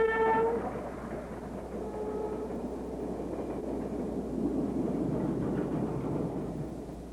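Train hauled by back-to-back locomotives on a Chinese railway, opening with a loud horn blast that gives way to a steady, close rumble and clatter of the passing consist.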